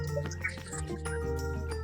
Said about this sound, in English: little drizzle of proudly South African olive oil